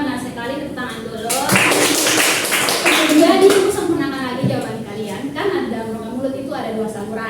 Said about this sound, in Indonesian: jawaban dari Pak Jili dan Indra benar sekali, tepuk tangan dulu